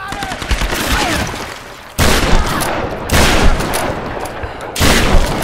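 Loud, repeated bursts of shotgun fire in Tomb Raider, a dense barrage of blasts and booms that continues almost without pause.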